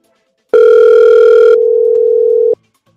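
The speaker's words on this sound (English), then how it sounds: "The phone ring" An incoming call on a live talk-radio show sounds as a loud electronic telephone tone lasting about two seconds, its pitch shifting partway through, then cutting off to silence.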